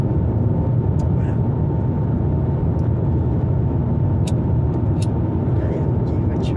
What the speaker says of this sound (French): Regardez, il y a une voiture là.